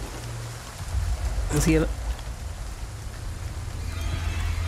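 Rain falls steadily in the Resident Evil 4 Remake video game, a soft, constant hiss with low rumble under it, and a person talks briefly over it.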